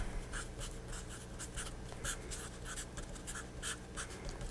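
A pen writing out a fixed point for a dynamical systems homework solution, with steady rapid scratchy strokes close by, continuous for several seconds and no speech.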